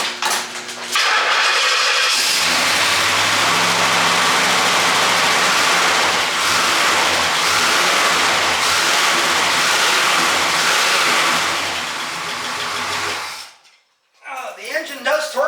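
A 1968 Pontiac GTO fitted with a new fan shroud runs with a loud, steady engine roar and fan rush for about ten seconds. The roar cuts off abruptly, and a voice follows.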